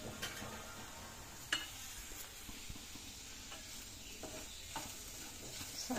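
Bottle gourd curry cooks in a pan with salt added, a faint steady sizzle and hiss with occasional soft scrapes and taps of stirring, quiet and without talk.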